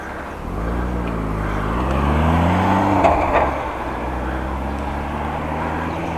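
A Porsche Cayman drives past on a countryside road, its engine note rising as it nears, peaking close by, then fading steadily as it moves away.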